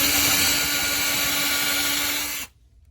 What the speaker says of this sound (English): Then I'm going to get it in here and drill her through.